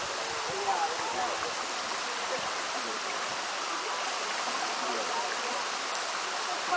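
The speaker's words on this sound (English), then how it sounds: "This is the tallest waterfall between the Appalachian Mountains and the Rocky Mountains." Steady roar of Hemden Hollow Falls, a tall waterfall, a continuous broadband rush of falling water that stays loud and even throughout.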